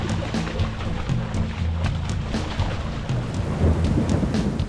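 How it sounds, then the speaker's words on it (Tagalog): Heavy rain pours down during a boat trip on Philippine waters, with rolling thunder and the current slapping against the hull. The downpour is a loud, dense, unbroken roar throughout. "bumuhos na agad ang ulan at sinabayan pa ng paghampas ng agos"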